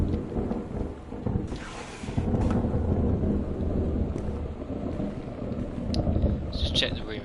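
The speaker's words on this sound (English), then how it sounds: "Seriously intense thunder going on." Thunder rumbles through a storm in the video game Gone Home, a dense, low roll with rain hiss that swells and fades over several seconds at fairly close range.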